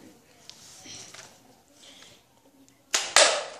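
A paper toy gun snaps off two sharp shots near the end, a quick pair of loud cracks after a stretch of quiet handling noise and soft rustling.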